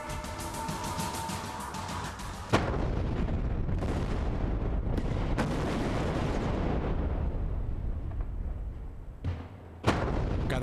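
Controlled blasting at a bridge construction site: deep booming blasts rumble continuously, with a few sharp cracks punctuating a heavy, roaring low-end wash of explosion noise.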